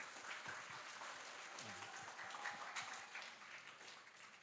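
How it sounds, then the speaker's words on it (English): A seminar audience at a tourism faculty event gives warm applause, a dense and even patter of many hands heard at a distance in a large room, fading slightly toward the end. "please give the most warm applause to our speaker and also our moderators."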